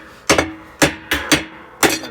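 Four sharp metallic hammer blows strike the spanner nut on a Samsung top-load washer, spaced unevenly about half a second apart, close and loud with short ringing tails.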